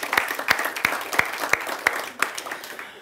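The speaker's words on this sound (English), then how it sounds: "Can we give Jonathan a huge round of applause?" Audience applause breaking out after a call for a round of applause for a speaker, steady crowd clapping with regular louder accents, fading slightly toward the end.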